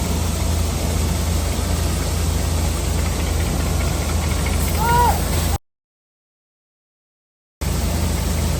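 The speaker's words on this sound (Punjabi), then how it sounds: "ਥੋੜਾ ਟਰੈਕਟਰ ਨਾਲ ਗਾਂਹ ਤੋਰ" A tractor engine runs steadily beside a corn thresher on a farm, a constant close droning hum with faint background voices, cutting out briefly before resuming.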